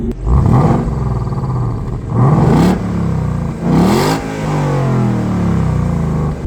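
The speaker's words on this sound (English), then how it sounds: "it does have a nice exhaust note" A stock 2016 Ford Mustang GT convertible revs hard, its exhaust note rising and falling in three or four loud close surges as it climbs through gears, then settling into a steady rumble, with no talking.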